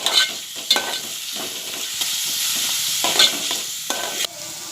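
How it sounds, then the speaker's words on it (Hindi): Onion fries in oil for a drumstick masala, a loud close sizzle broken by repeated scraping stirs of a spatula against the pan. "ये देखिए, प्याज नरम होने लगी है। इसे हम हल्का गोल्डन होने तक तेल में तलेंगे।"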